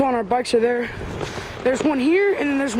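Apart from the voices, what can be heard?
No everyday noises stand out.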